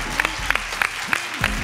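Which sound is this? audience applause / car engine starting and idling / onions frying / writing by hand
audience applause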